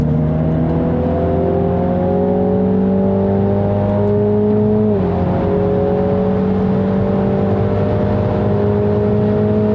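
A Mini John Cooper Works GP accelerates hard down a Nürburgring straight, its engine note climbing steadily through the gears with a brief dip at an upshift, loud and continuous from inside the car.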